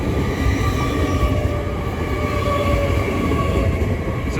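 Class 801 multi-unit train passing through Peterborough station on the East Coast Main Line, a loud, steady rumble and rush of wheels and motors close by throughout, with no talk.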